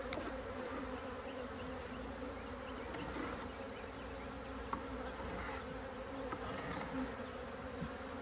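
Honey bees buzz continuously around an open beehive deep box in an apiary, a dense steady hum with individual bees passing close, fairly quiet overall.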